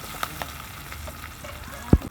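Chopped onion and green chilli fry in hot oil with a soft, steady sizzle, punctuated by a few faint clicks and one sharp knock of a utensil near the end.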